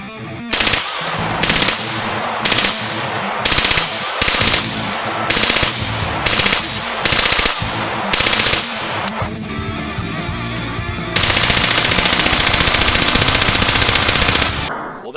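Automatic fire from an FN P90 submachine gun: loud close bursts of rapid shots in a stuttering rhythm, followed by a longer sustained burst near the end, with no talking.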